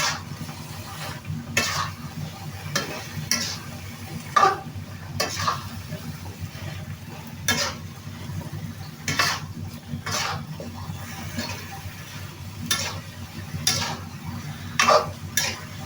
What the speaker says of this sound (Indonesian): Nah, kita aduk-aduk dulu biar ininya matang.